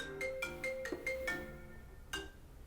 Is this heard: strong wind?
no